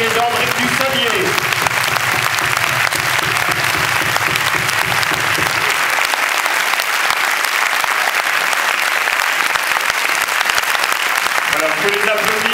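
A cinema audience at a film premiere of Le crime est notre affaire gives Catherine Frot and André Dussollier loud, dense, sustained applause that fills the room throughout, with a voice briefly audible at the start and end.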